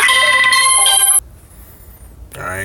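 A loud mobile phone ringtone plays a bright electronic melody, stops suddenly, then starts again after a short silence, with no voices over it.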